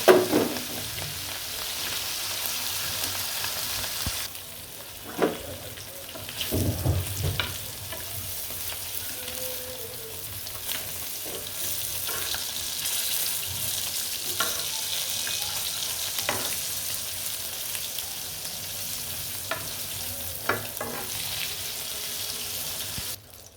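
Small hilsa pieces fry in plenty of oil, giving a steady close sizzle and hiss with occasional scrapes and knocks as the fish is turned in the pan.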